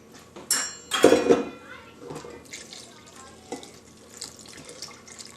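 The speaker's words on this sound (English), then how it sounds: "I'm going to add 3 cups of water." Water runs and splashes as three cups are added to flour for homemade bread dough, with a burst of clattering at the start and quieter trickling after. A person talks over it.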